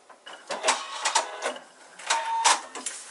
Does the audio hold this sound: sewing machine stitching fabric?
yes